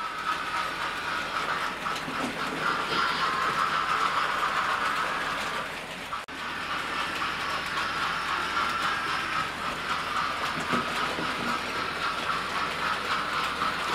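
Model Class 70 locomotive running on a layout with a slight gradient, giving a steady mechanical whir and clicking rail rhythm that stays close and continuous throughout, dipping briefly midway before carrying on.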